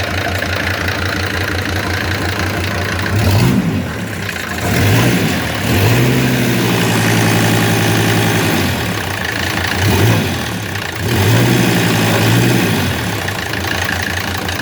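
A Mercedes OM602 2.9-litre diesel engine on a stand, cranked and started several times, each start catching into a rough, knocking idle with short revs, running loud and close with no talk.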